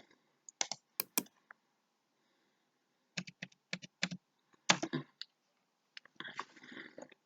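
A password being typed on a computer keyboard: soft, quick key clicks in short bursts separated by pauses, close and quiet.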